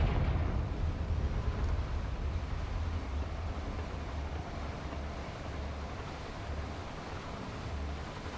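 A Confringo fire-blast spell in the Hogwarts Legacy video game erupts as a deep, rumbling roar that rolls on steadily at moderate volume, a continuous surf-like boom with no talk.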